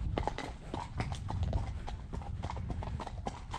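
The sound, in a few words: horse hooves clip-clopping on a ride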